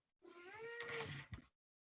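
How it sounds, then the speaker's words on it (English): A house cat lets out a single drawn-out meow, close and clear, rising then falling over about a second, ending with a short soft chirp before silence. "that's my cat."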